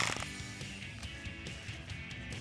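Socket ratchet with a 13 mm shallow socket tightening a bolt while installing a cold air intake on a 2015-2020 Ford F-150 5.0L, giving close, quick repeated clicking strokes.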